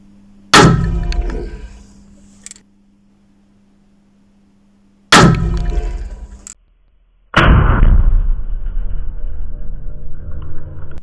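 Mannlicher rifle fired three times, each a loud sharp close report with a ringing decay, the last shot followed by a lingering rumble.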